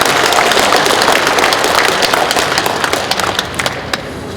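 A large audience in an indoor gymnasium in Gyeongju gives loud, sustained applause after a lecture at a national Confucian culture conference, a thick wash of clapping that thins slightly toward the end.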